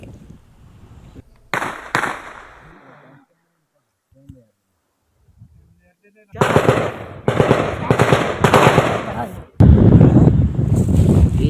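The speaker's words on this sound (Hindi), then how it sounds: "फौज और दहशतगर्दों के दरमियान गोलियों का तबादला लगातार जारी है।" A gunfight between army troops and militants during an encounter in Rajouri, Kashmir: bursts of rapid automatic fire crack loudly, broken by a few seconds of near silence, then sustained heavy volleys resume and grow louder toward the end.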